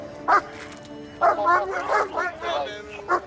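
A police dog barks in short, sharp bursts at close range while a handler's voice gives commands during the arrest of a suspected burglar.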